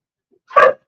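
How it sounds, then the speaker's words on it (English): A single short dog bark, loud and close, standing alone in an otherwise quiet moment. "Hey! No barking."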